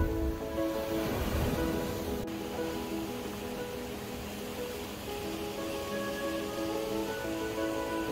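Sea waves break steadily on the rocky coast at Jeongdongjin, Gangneung, a continuous rushing surf heard from a moderate distance, with soft background music running underneath.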